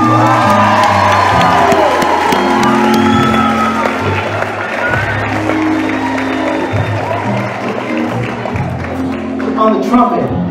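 Concert audience at a tribute show at The Oaks Theatre in Oakmont, Pennsylvania, applauding, cheering and whooping loudly for the band, a dense continuous roar of clapping and shouts throughout.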